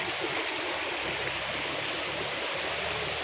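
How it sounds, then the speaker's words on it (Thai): Constant rushing roar of a mountain waterfall, loud and close, a dense unbroken wash of falling water with no voices. "น้ำตก"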